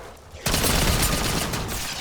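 The SG-12 shotgun in Black Ops 4 goes off with a sudden, loud, close blast whose roar stays dense and sustained after a brief quiet start.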